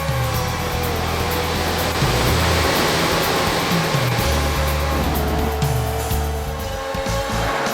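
Arcade racing car in a Sega-era Xbox Live Arcade game, engine roaring steadily with tire noise as it slides around corners, loud and continuous under rushing background music.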